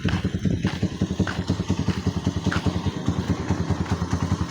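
Motorcycles run close by, their engines putting out a steady, throbbing low rumble with regular pulses that persists through the whole stretch, with faint background chatter but no clear talk.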